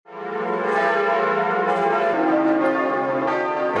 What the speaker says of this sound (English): the bells of Notre Dame ringing together in Paris for the first time since the 2019 fire that devastated the historic cathedral